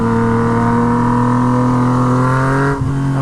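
A Yamaha MT09 motorcycle with a straight-pipe Toce exhaust, loud and close, holding a steady deep droning engine note under light throttle, with a short dip and recovery toward the end.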